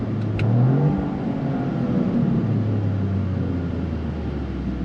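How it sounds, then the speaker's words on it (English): Toyota GR Corolla with an 8-speed automatic and all-wheel drive accelerating hard, its engine note climbing, dropping at a shift, then pulling steadily again, heard close and continuous from inside the car. "get on the power to get that forward acceleration that you want"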